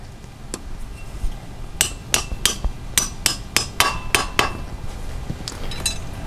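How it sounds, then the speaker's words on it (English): A string of sharp metallic hammer strikes on metal landscape edging lands in quick, uneven succession, close by, with a few scattered taps before and after the main burst. "whenever you go to hammer this down, it basically locks it in"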